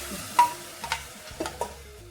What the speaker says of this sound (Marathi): आता भाजीचा रस्सा टाकून घेऊ